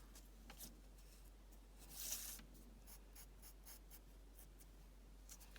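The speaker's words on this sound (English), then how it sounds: "Some of the areas I might just go over a little bit thicker with my Sharpie." Sharpie marker drawing on watercolor paper, faint scratchy strokes in short repeated bursts, with one louder scrape midway, close and quiet over a low steady hum.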